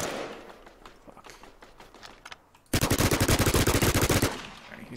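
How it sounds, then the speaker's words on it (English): Video game gunfire in a Last Man Standing match: scattered distant shots, then a loud, rapid automatic burst lasting more than a second before quieter firing returns. "He's shooting at someone, though."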